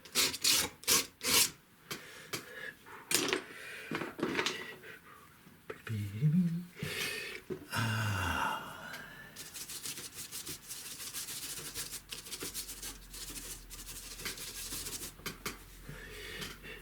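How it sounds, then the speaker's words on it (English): A palette knife scrapes wet oil paint off primed paper in quick rough strokes, followed by a longer stretch of softer, steady rubbing, all fairly close and faint. "let's just scrape it off and go back and do it again"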